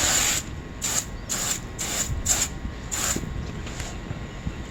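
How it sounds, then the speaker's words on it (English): Six or seven short hissing spray bursts of paint onto a wetted fake rock surface in a rough rhythm, each a second or less, close by over a steady background rumble. "and then I spray."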